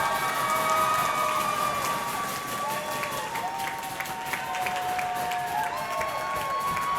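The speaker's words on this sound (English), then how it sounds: "Crowd going nuts for Manitoba." A crowd roars and cheers continuously at a men's dodgeball quarter final at the 2019 Canadian nationals, loud and sustained throughout, with a sharp whistle and scattered shouts rising over the din.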